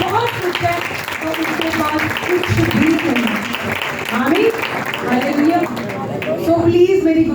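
A church congregation gives loud, sustained applause with dense clapping throughout, and voices rise over it.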